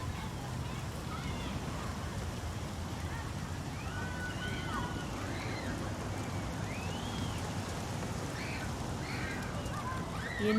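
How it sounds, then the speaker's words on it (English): Steady rain hissing throughout a rainy scene in the video game Heavy Rain, a constant wash of drops with faint distant tones and muffled voices beneath. "Looks like rain's coming."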